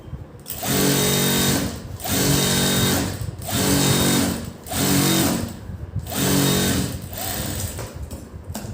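A sewing machine stitches the back seam of a blouse in about five steady bursts, each roughly a second long and separated by short pauses. The motor whirs loud and close, and no one speaks.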